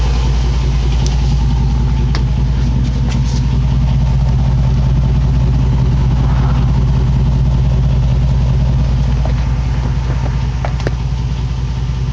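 A 2006 Jeep Grand Cherokee Hemi idles through a Magnaflow 14-inch straight-through exhaust with the resonator deleted, giving a loud, steady, deep rumble close by, with no talking.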